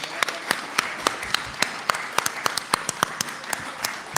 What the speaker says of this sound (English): let's give a round of applause for our Dolton Fire Department